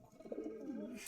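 A pigeon in a cage at the Meradia bird market in Khilgaon, Dhaka, gives a single soft, low coo lasting about a second, faint and close.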